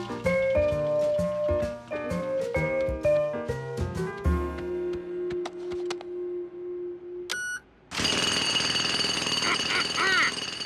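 Noisy construction-site machinery in a children's cartoon pounds and clatters loudly over playful melodic notes, then settles into a steady drone, followed by a few beeps and a dense roaring burst of machine noise.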